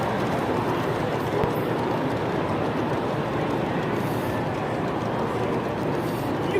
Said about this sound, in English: I can see everyone's favorite E2 tank engine.